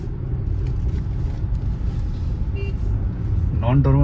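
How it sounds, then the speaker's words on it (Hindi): A Tata Altroz XZ Plus non-turbo hatchback is driven and accelerated, giving a steady low engine and road rumble from inside the cabin that grows slightly louder toward the end, where a voice briefly speaks. "सो हम लोग अभी ये गाड़ी चला के देखने वाले हैं और देखते हैं गाड़ी का परफॉर्मेंस कैसा है।"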